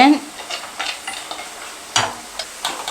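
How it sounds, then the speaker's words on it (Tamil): Ginger and garlic sauté in a pan for a prawn thokku, a close, crackling sizzle punctuated by repeated metal spoon scrapes and clinks against the pan, loud and without talk. "இஞ்சி பூண்டு வதங்கிருச்சு"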